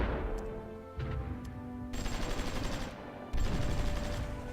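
Artillery bombardment in the strategy war game Supreme Ruler Ultimate, with bursts of rapid, crackling gunfire-like blasts that start and stop abruptly in dense clusters, loud and continuous across the stretch, no voices.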